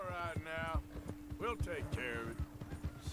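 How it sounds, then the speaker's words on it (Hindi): A horse galloping near Valentine in Red Dead Redemption 2: quick, rhythmic hoofbeats thud steadily throughout, close and clear, with voices speaking over them. "ये घोड़ा सही भाग रहा है और इसका स्टेमिना काफी है अभी तक जो है"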